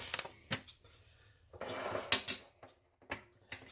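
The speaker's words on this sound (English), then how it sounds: "I mix all the dry ingredients first." Dry keto bread ingredients being mixed in a bowl, with scattered clinks and scrapes of a utensil against the bowl, quiet and intermittent.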